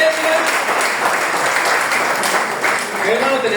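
A church congregation in Sunday school applauds together, a dense steady wash of clapping lasting several seconds, with a voice speaking over it.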